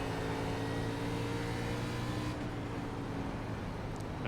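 A race car engine drones at high revs as it accelerates out of turn 4 in the iRacing sim, a steady loud whine held throughout.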